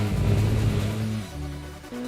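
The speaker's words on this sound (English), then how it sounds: "The engine also sounds like a beehive." A Peugeot 406 touring car engine in Gran Turismo 2 revs loud and close with a buzzy, droning tone, pitch stepping down as it shifts gears, then holding steady before climbing again.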